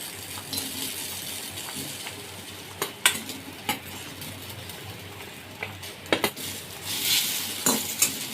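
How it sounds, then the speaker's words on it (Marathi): A spoon stirs okra and potatoes frying in a hot pan for a fasting-day dish, giving a soft steady sizzle. Scattered metallic scrapes and clinks of utensil on pan rise above it, with a brighter rush of sizzle near the end. "भेंडी आपण भाजून घेऊया."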